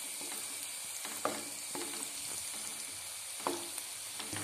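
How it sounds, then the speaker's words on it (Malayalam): Masala idli frying on a low flame, with a faint, steady sizzle and occasional light clicks of the pan or spatula, quiet and close. "ചെറുതീയിൽ ഫ്രൈ ചെയ്യുക."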